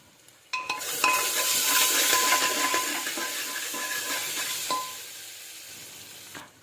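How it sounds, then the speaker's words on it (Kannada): Ginger garlic paste sizzles and fries with onions in a pan for chicken biryani, a steady close hiss with stirring scrapes, cutting off briefly near the end. "ಶುಂಠಿ ಬೆಳ್ಳುಳ್ಳಿ ಪೇಸ್ಟ್ ಹಾಕೊಳ್ಳೋಣ. ಅದು ಸ್ವಲ್ಪ ಚೆನ್ನಾಗಿ ಫ್ರೈ ಆಗಲಿ."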